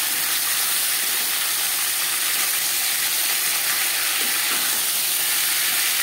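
Fish heads fry in a pan with a steady, even hiss and sizzle of hot oil, close and unbroken throughout, with no voices over it.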